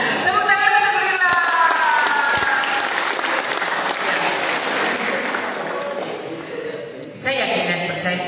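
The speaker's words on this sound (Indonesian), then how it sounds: "Tepuk tangan untuk Lila." Applause from a student audience at a leadership training event fills the room, steady and dense, with a voice talking over it throughout and a brief lull near the end before the clapping swells again.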